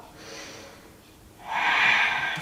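Heavy breathing during an abdominal workout: soft breath at first, then a louder, rough exhalation through the mouth that swells and holds for about a second, close and alone.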